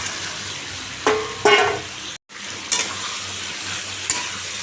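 Bottle gourd and papaya pieces frying in a pan, a continuous sizzle broken by a few loud stirring scrapes and clatters, heard up close with no voices.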